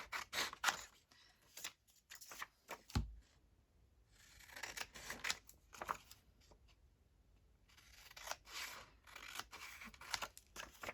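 Paper pieces are cut out with scissors in a quiet room, giving repeated crisp snips and rustles that come in uneven bursts with pauses between, close and soft, and no one speaking.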